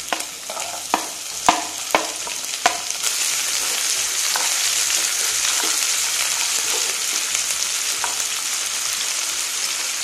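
Onions dropped into hot oil with cumin seeds, frying for moong dal khichdi: a few sharp clatters and pops early on, then a steady, loud, continuous sizzle with stirring.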